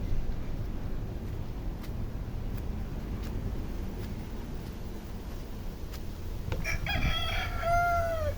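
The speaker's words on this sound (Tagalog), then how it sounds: "Mayroong manok doon." A rooster crows once near the end, loud and clear, after a stretch of steady low outdoor rumble with faint ticking.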